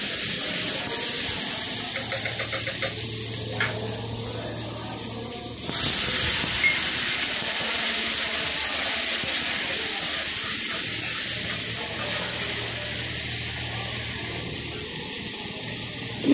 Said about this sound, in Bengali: সমস্ত সবজিটা খুব ভালো করে আমি কষিয়ে নিচ্ছি, যেন আদার কাঁচা গন্ধটা চলে যায়